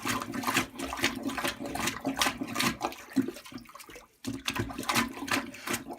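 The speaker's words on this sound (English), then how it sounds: "plunge out as much water out of the toilet bowl as you can" Water sloshes and surges in a toilet bowl as a plunger pumps it out in a cabin being winterized, with repeated rhythmic gushes, a brief pause, then more strokes close by.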